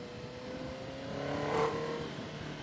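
The engine of a Honda CB650F motorcycle sounds while riding at night, a smooth mid-pitched drone that swells in a rising rev before easing off, moderately distant with no talk.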